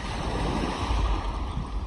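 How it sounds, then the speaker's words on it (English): Ocean surf washes in over bare feet on a sandy beach, a loud, continuous rushing wash mixed with gusty wind noise on the microphone. "When the water goes over your feet"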